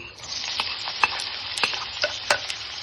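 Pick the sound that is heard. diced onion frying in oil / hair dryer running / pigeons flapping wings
diced onion frying in oil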